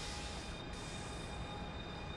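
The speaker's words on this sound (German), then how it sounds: "Ein bisschen mehr bremsen." A train in the railway simulator Trainz 22 brakes. The rail noise is a faint, steady rush, heard on its own without talk.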